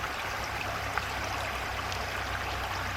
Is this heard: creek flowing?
yes